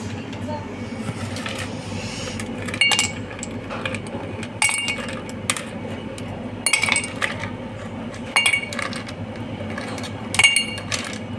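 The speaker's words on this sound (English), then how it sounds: "Full glass of ice." Ice cubes clink against a glass while a lemongrass mojito mocktail with mint, lemon juice and green apple flavour is prepared; bright, sharp chinks come in a few scattered bursts over a steady low background hum.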